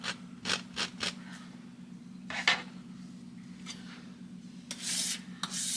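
Paint being scraped off a canvas with a painting knife during a landscape painting session, a few short dry scratchy strokes spaced apart over a low steady hum, quiet and close.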